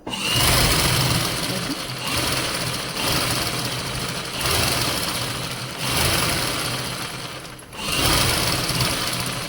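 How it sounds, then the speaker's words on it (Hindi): A sewing machine runs steadily stitching along a salwar hem (mohri), a loud continuous close whirring in several long runs separated by brief pauses, with no talk. "पूरी मोरी पर ऐसे ही सिलाई लगाते जाएंगे हम।"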